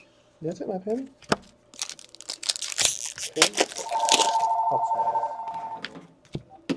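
A telephone rings with a bright, sustained electronic trill during a Series 2 hockey card case break, sounding under loud crinkling and tearing of packaging and people talking nearby.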